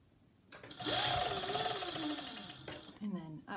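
A sewing machine stitches the gusset seam of a pair of classic underwear, running steadily for about two seconds at close range, with someone talking over the stitching and then again once it stops.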